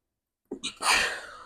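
A single close sneeze, a quick sharp intake followed by a loud burst, then quiet.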